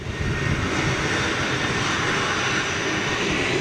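A TUI Boeing 787-9 departing for Bridgetown roars steadily and loudly as it takes off, a broad sustained engine rumble heard alone without speech.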